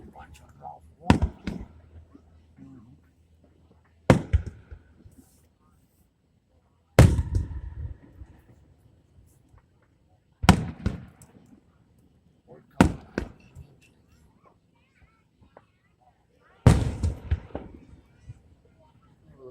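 Fireworks burst at a Freedom Fest show in Murray, Kentucky, in 2024: six loud separate booms spaced a few seconds apart, each followed by a crackling decay, with quiet gaps between them.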